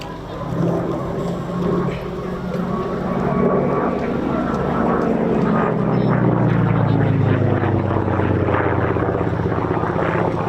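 A Yak-11 propeller aircraft engine drones loudly and continuously at an airshow, its pitch shifting steadily as it passes, while a voice talks faintly underneath.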